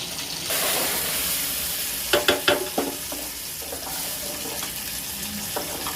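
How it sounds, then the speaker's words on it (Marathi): Dal tempering with onion, mustard seeds and curry leaves in a hot pan: a loud burst of sizzling starts suddenly, with a quick run of sharp spattering crackles in the middle before settling into steady frying. "डाळीला फोडणी द्यायची तयारी झालेली आहे कांदा राई कडी कढीपत्ता ह्याच्यामध्ये वाटप टाकून घेतलेले आहे डाळीसाठी"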